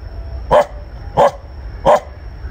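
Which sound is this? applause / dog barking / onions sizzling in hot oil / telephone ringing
dog barking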